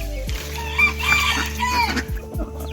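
Chickens cluck close by in short bursts, with a rooster's crow rising briefly among them.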